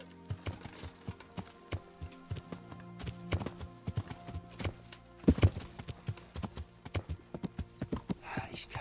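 Horse hooves clip-clopping in a steady trotting rhythm while riding in the medieval game Kingdom Come: Deliverance, close and distinct, with a brief cluster of louder hoof strikes midway and ambient game sound underneath.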